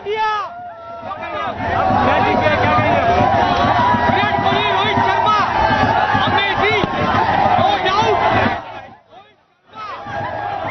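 Crowds fill the streets celebrating India's Champions Trophy win in Mumbai, a loud, dense babble of shouting and cheering voices that holds steady, then drops briefly near the end before resuming.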